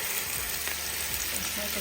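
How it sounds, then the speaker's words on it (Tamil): Ginger and garlic sizzle steadily in a hot pan, a constant bright hiss of sautéing without pause. "இஞ்சி பூண்டு சேர்த்து நம்ம அழகாக அதில் வதக்கிக்கலாம்."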